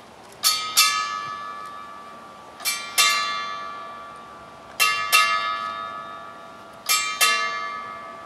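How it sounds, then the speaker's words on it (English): Eight bells are struck in memory of prisoners of war and the missing at a Veterans Day ceremony, rung as four pairs of bright, ringing strikes that each fade slowly before the next pair. "we strike 8 bells in memory of all of our POWs and missing in action of all wars"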